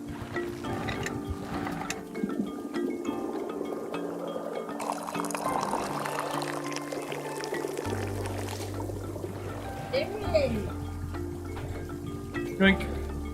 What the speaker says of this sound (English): we pour all the tea in